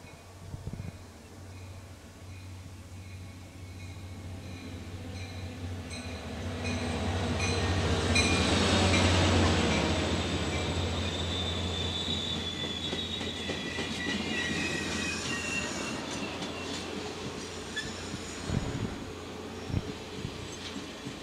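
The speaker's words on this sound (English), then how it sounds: "Let's watch the train come by since we're here." A train rolls past at a railroad open house, a steady rumble and rail noise building to a loud peak near the middle, then easing off with wheel squeal and clicking joints toward the end, no talking.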